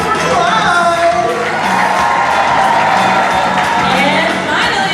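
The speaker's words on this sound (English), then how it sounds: "Let's keep that applause going for Clyde." Sustained cheering, clapping and shouting from a big SeaWorld Orlando show audience, with scattered whoops and children's voices, holding steady and loud from start to finish.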